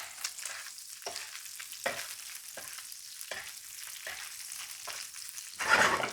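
Pork renders in a hot pan for a quick family pad thai stir fry. Loud sizzling frying is punctuated by regular stirring scrapes about once a second, with a brighter burst of spitting near the end.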